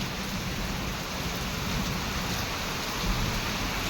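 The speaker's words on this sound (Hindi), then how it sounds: "देखो बाहर का मौसम, इतनी ज़्यादा बारिश हो रही है।" Heavy rain pours outside during the monsoon season, making a dense, even hiss that holds steady for the whole stretch, moderately loud and with no voices over it.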